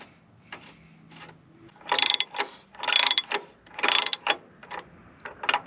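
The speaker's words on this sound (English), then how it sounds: "That nut is tightened down." Ratcheting wrench clicks tightening a nut onto a bolt on a Nissan diesel-swapped Oliver OC-3 tractor, coming in several close, loud bursts of rapid clicks separated by brief pauses.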